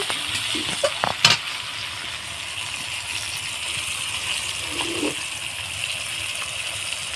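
Mixed vegetables frying in oil for Bengali shukto, a continuous close sizzle with a few sharp utensil clinks early on and a brief scrape near the end, no voices.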